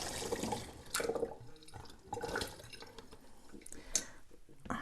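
Non-alcoholic ginger wine being poured too fast through a funnel into a bottle gives a close, splashy gurgle of liquid, rising and falling in a few uneven bursts.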